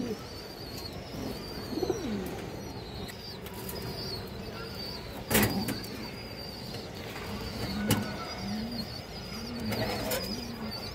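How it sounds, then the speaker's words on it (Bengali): Bright red Chuitthal (Juriyala) pigeons coo softly and intermittently at close range, with a few sharp wing flaps breaking through a steady background hum. "এই যে দেখেন আপনারা চুইঠাল কবুতর বা জুড়িয়ালা কবুতর"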